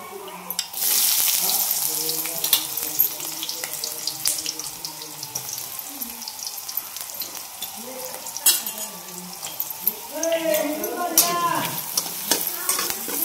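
Steady sizzling of onions frying in hot oil with cumin, mustard seeds and crushed garlic, with occasional clinks and scraping of a spoon stirring the pan.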